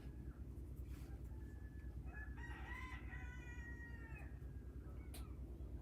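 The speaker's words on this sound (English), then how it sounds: "The chickens are being their usual noisy self." Chickens and roosters call outdoors at nightfall as they get ready to roost in a tree, with a rooster's crow and several clucks and squawks rising over a steady low hum, moderately close and without talk.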